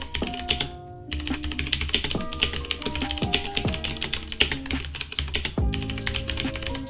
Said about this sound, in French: on se retrouve pour un petit test audio avec le clavier